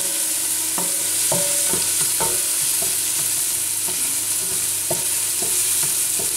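Onion frying lightly in a pan, a loud, steady sizzle close by, with regular scraping and clinking strokes of a utensil stirring through the pan.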